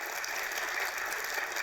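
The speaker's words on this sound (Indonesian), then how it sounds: "kita berikan tepuk tangan untuk Tama ya" Dense, steady applause from a talk-show studio audience for a guest named Tama, a continuous wash of many hands clapping together with no voices over it.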